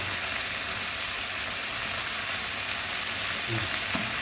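Shallot flowers and snow peas stir-fried hard in a hot pan give a steady, dense sizzle throughout, with a couple of brief clinks near the end and no talking.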